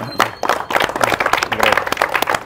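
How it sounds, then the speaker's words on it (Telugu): A crowd at a Ganesh festival gathering claps in a brief burst of loud, close applause mixed with voices. "అందరూ ఒకసారి క్లాప్స్ కొట్టాలి"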